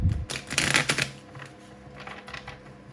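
Playing cards being shuffled up close, a few quick riffling bursts followed by softer rustling and flicking, with no one speaking.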